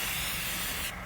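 Rust-Oleum self-etch primer hisses steadily from a spray can onto a scrap-built steel welding cart, one continuous close burst that cuts off just before the end.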